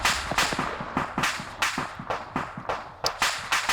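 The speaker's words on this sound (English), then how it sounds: "All the explosions and that ammo sound, that's literally the ammo cooking off." Ammunition cooking off inside a burning tank in a PvP war video game: a rapid, irregular string of sharp cracking pops, about two dozen in under four seconds, loud and close with no voices.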